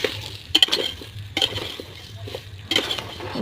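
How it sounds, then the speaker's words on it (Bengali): Soybean, potato and red lentil khichuri stirred in a pot on a gas stove, a few scraping and clinking strokes of a spoon against the metal with light frying underneath. "ভালো করে নাড়াচাড়া করে নিই"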